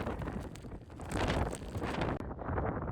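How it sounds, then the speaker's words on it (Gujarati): Strong wind on a high hilltop cliff edge buffets the microphone in loud, continuous gusts with rumbling low-end noise and fluttering surges, no speech audible. "કેટલો તેજ પવન છે જોવો તમે"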